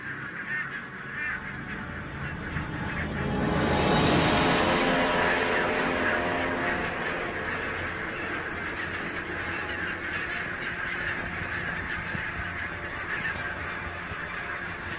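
Geese honking in a loud, overlapping chorus on a Hebrides island, with the calls swelling around the fourth second and continuing as a dense flock clamour through the rest.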